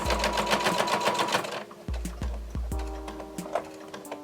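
A sewing machine stitches a messenger bag, first in a fast continuous run, then in several short separate bursts of a few stitches each, close and clear with no talking.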